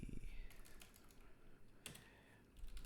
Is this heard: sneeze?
no